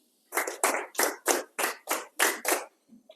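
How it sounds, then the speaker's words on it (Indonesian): A class of students claps together on a teacher's cue, about eight sharp, evenly spaced hand claps in a steady rhythm, close and clear with no talking. "Tepuk 2 kali."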